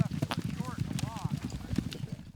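A herd of horses moves on a frosty May morning in western Colorado during a horse drive, with dense overlapping hoof clip-clops and a faint whinny or two running under the steady hoofbeats.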